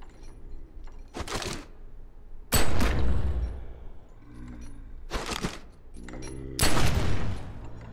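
Pistol gunfire in the video game Outer Ring: four loud, sharp bursts of rapid shots spaced a second or two apart, each ringing out briefly, with quiet gaps between and no talking.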